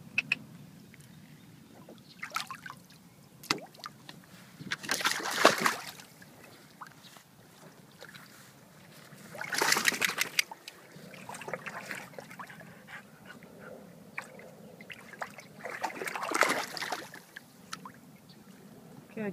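An English Bulldog dives into water after a stone, sending up three bursts of splashing and sloshing water close by, with quiet panting and stirring between the plunges.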